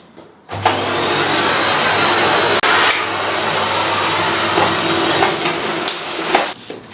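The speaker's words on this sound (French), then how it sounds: "Je vais passer l'aspirateur partout." A vacuum cleaner switches on and runs with a steady, loud whine and hum, briefly cutting out and restarting, with a few knocks as it moves around.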